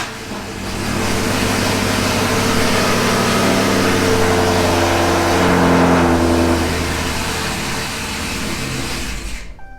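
A cammed Dodge Hellcat V8 running E85 in winter cold roars loudly and steadily for several seconds, its rough, uneven idle sputtering before the engine cuts out abruptly at the end.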